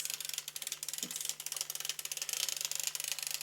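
The dial of a sock knitting machine turns counterclockwise, producing a quick, even run of small ratcheting clicks, close and quiet.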